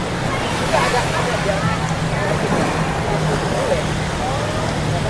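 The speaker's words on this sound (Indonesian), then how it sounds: "Tuh, ombaknya gede banget." Big ocean waves roll and crash on the beach at Pandan, Carita, in Anyer, making a steady broad roar of surf with voices faintly mixed in.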